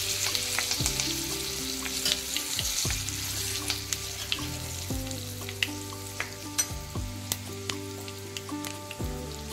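Spices and curry leaves fry in hot oil for a sweet-sour tamarind and jaggery amti, a soft continuous sizzle with stirring, fairly quiet and close, with scattered light taps and no speech.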